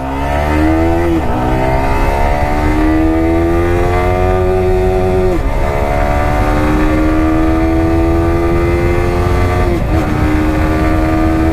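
A Yamaha R15 motorcycle accelerating hard in track mode with a quick shifter, its loud engine note climbing steadily through gears, with brief dips at each quick upshift and no talking.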